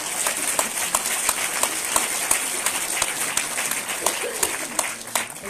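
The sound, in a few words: audience applause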